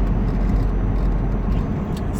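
Steady low rumble of a car being driven, constant road and engine noise with no speech.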